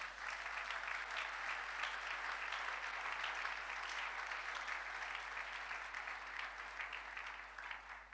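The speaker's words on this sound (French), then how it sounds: "Est-ce qu'on peut acclamer bien le Seigneur?" A church congregation at a Sunday service applauding the Lord, steady dense clapping from many hands sustained throughout, fading slightly at the end.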